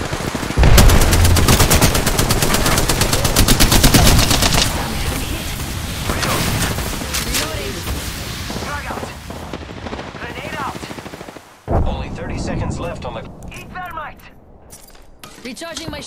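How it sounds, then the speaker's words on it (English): Rapid automatic gunfire in the shooter game Apex Legends, loud dense bursts of shots for several seconds followed by scattered single shots and a sharp blast, with game voices and sounds mixed in. "They're shooting at me? I am taking fire, friend."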